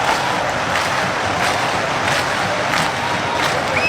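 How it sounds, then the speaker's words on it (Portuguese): Corinthians supporters roar in a packed Neo Química Arena stadium, a loud continuous crowd wash with rhythmic swells of chanting and cheering throughout. "Essa é a fiel torcida aí de fundo aí"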